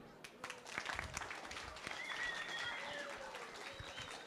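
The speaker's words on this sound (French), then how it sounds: "est-ce qu'on pourrait nous faire des applaudissements version « je suis jeune et j'en veux » ?" Quiet audience applause at a live drawing-battle show, a soft, steady patter of clapping with faint whistles over roughly four seconds.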